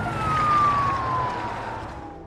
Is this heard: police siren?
yes